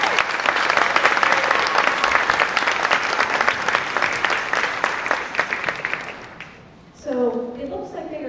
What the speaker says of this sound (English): One more round of applause for our 8th graders